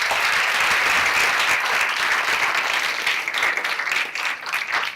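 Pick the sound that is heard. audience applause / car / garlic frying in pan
audience applause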